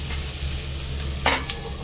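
Onions sautéing in butter in a pan: a steady, soft sizzle with a brief stirring scrape, close and even, with no voices.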